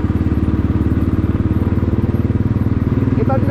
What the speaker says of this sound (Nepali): हामी 3 बुलेट 1 एपिला अनि 1 चाहिँ हाम्रो यामा बाइक छ